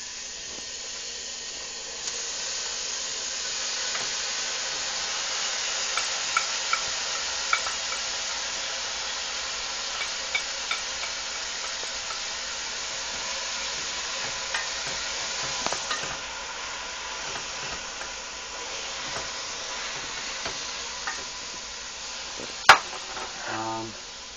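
Tikka pieces frying in hot oil as they are stirred continuously, a steady sizzle and hiss under irregular scraping and tapping from the pan, with one sharper knock near the end.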